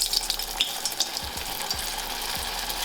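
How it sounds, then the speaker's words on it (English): Potato pancakes frying in hot oil on a stove, a loud, dense crackling sizzle with rapid popping spatters, steady and close throughout. "we're gonna go ahead and start frying the potato pancakes"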